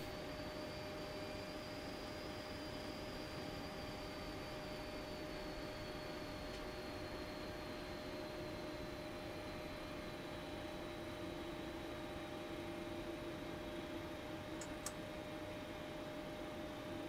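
A Boeing 737-800 airliner in a flight simulator sits on the runway with a steady, even jet engine roar and hiss holding constant throughout, a couple of faint ticks near the end.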